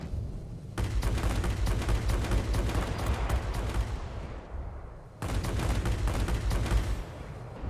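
Aircraft machine guns fire in long sustained bursts in World of Warplanes, a dense rattling stream over a droning engine, pausing briefly before a second burst, loud and close.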